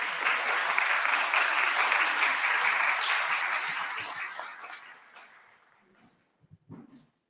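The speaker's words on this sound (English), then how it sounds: "let's give it another round of applause to the Golden Voices." A convocation audience at a college Black History event claps in a loud, dense round that gradually fades out, ending with a few scattered brief sounds after the applause dies away.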